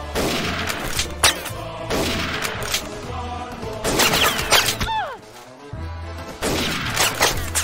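Gunfire exchange in a WWII Mount & Blade Warband mod battle: repeated sharp shots and bursts, loud and close, with crashes and layered combat noise throughout, no talking.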